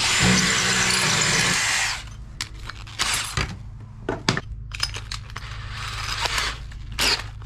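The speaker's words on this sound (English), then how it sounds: "put your drill on high speed, and it will drill through stucco" A power drill with a spade bit whines steadily at high speed through stucco for about two seconds, then stops, followed by scattered clicks and handling noises nearby.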